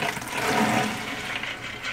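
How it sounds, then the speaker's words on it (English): Soaking water from overnight beans pours steadily down a kitchen drain in a continuous rushing stream, close and fairly loud. "After soaking my beans all night long, I want to discard the soaking water."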